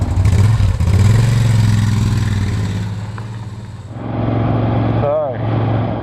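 A motorcycle rides steadily with a loud, continuous engine drone and wind rumble, easing off briefly before picking up again.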